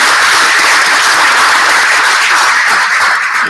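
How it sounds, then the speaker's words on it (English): A conference audience gives the morning's panelists a big round of applause, loud continuous clapping from a full room that holds steady the whole time with no voices over it. "Let me please thank the panelists of this morning with a big round of applause"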